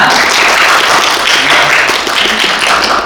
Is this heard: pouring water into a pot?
no